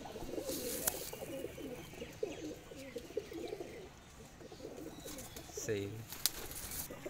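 Teddy pigeons coo in a soft, low burst near the end, amid faint chirps and someone talking throughout.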